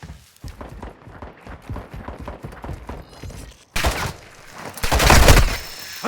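Call of Duty Modern Warfare II match with a rapid series of sharp gunshots and bursts of automatic fire, ending in louder, denser close-range shooting.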